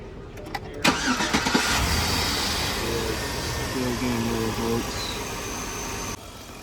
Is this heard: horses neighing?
no